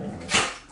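A female dog lets out one short, sharp bark close by, with no other sound around it.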